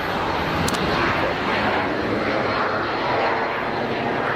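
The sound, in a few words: United airliner taxiing at Geneva Airport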